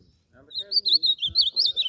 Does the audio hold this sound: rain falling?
no